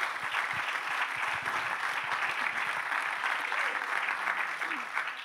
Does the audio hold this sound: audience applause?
yes